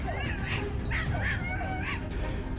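Hunting dogs yip and bark in short, excited bursts while tracking wild boar on a hillside near farmland, heard at moderate distance over a steady outdoor background.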